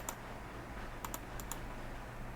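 A few quiet, scattered keystrokes tap on a computer keyboard, in short clusters against faint background hiss.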